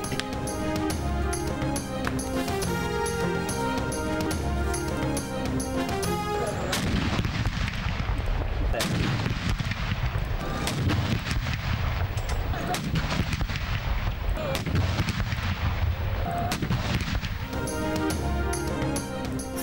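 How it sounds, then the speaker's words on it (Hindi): Cannons fire a 21-gun salute for Eid Milad-un-Nabi in Pakistan's provincial capitals, with heavy booms repeating among dense ceremonial noise and music, loud and continuous throughout. "ईद मिलादुन्नबी पर दिन का आगाज़ विफाकी दारुल-हुकूमत इस्लामाबाद में 31 और सूबाई दारुल-हुकूमतों में 21 तोपों की सलामी से हुआ।"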